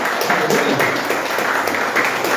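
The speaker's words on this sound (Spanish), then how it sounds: "le vamos a dar un aplauso a nuestro Dios" A church congregation applauds after a scripture reading: steady, dense clapping from many hands, fairly loud and close, continuing evenly without a break.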